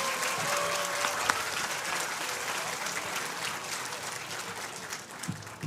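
An audience at the Co-op Tech 2023 completion ceremony applauding student speakers, a sustained round of clapping that slowly fades, with a brief voice near the end.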